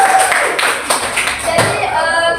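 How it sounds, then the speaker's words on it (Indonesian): An audience of school pupils clapping hands in a classroom during a student-teacher lesson, a short burst of sharp claps mixed with voices talking over it. "Tepuk tangan untuk kita semua"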